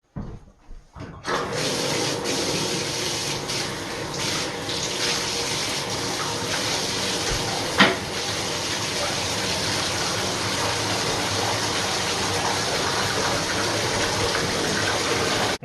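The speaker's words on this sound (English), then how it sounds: "let's get some hot water going." A tap runs hot water into a container to soak a crashed E-flite Extra 300 foam RC airplane wing. A steady, close gush goes on without a break after a short start, with a faint knock partway through.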